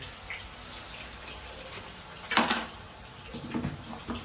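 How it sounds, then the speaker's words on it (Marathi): Water splashes and sloshes faintly in a container as banana slices are washed, with a brief louder splash in the middle and a few softer ones after. "पाण्यात भिजून घ्यायचं काम चालू आहे"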